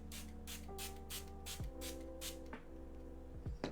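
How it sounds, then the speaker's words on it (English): Clarifying hydration dew facial mist sprayed onto a face with a pump bottle, about four soft hissing bursts in an even rhythm, close and quiet, with no talking. "I sprayed it on my face 10 times"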